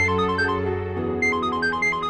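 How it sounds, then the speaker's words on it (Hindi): A phone ringing in a Hindi television drama, a loud electronic ringtone playing a quick repeating melody of bright tones over a sustained musical bed, with no talking. "शगुन क्यों फोन कर लिया मुझे?"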